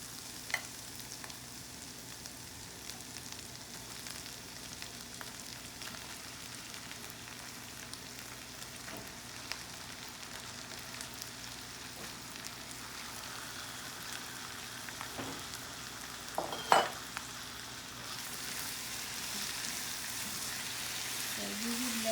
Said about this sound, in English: So we will let cook liver until the liver gets like a dry little bit